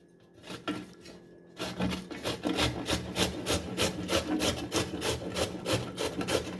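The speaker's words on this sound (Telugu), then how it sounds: "ఇప్పుడు ఏం చేస్తానంటే దీన్ని ఇలా గ్రేటర్ తీసుకోవాలి. తీసుకొని దీన్ని కోరియాలి." Bottle gourd scraped against a kitchen grater, with a brief quiet pause and then steady, rhythmic rasping strokes, close and regular.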